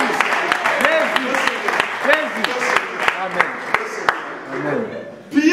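A church congregation claps along in steady rhythmic beats during a sermon, with a preacher's amplified voice speaking over the applause and the clapping thinning out toward the end.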